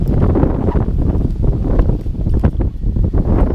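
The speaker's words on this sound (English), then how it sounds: "We had some brutal winds come through" Strong wind buffeting the microphone in a continuous loud roar and rumble, gusting without pause.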